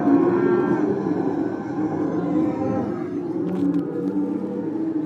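Cattle on a farm mooing, several overlapping drawn-out bellows of changing pitch that carry on continuously and fairly loud, with no speech.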